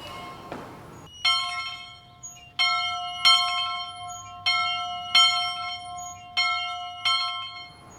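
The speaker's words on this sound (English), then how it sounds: "This is the original bell from 1905, and it still rings." The original 1905 schoolhouse bell at the Little Red Schoolhouse in Wickenburg, Arizona rings out in seven clear, resonant strokes at a steady pace, each leaving a long metallic ring, close and alone.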